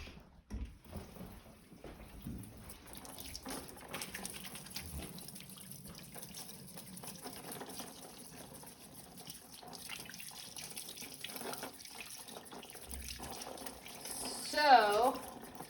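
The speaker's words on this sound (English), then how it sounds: "So, as you're watching me wash my hands" Hands being washed under a running tap at a cleaned kitchen workstation: a steady, close rush of water pours continuously, with a louder splashing burst near the end.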